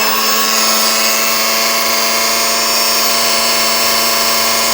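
A Ros electric kitchen mixer running at its third speed, a steady high-pitched motor whine that holds constant and loud throughout with no pauses.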